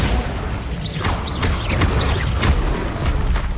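Bombarda spell blasts in the Hogwarts Legacy video game, several booming impacts with crashing debris and whooshing swishes in quick succession over a loud, busy battle din.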